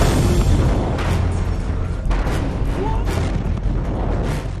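The Beirut explosion: a heavy, rumbling blast with a roaring low-end wash, followed by sustained booming turbulence and chaotic noise throughout.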